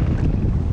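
Strong wind at sea buffets the microphone aboard a small fishing boat in swell, a loud, continuous low rumble filling the whole short moment with no voices.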